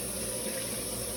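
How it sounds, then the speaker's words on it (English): Water from a kitchen tap pours steadily into a cooking pot on a stove, a continuous close rushing splash with no pauses and no talk. "I'm going to do just a little bit more water"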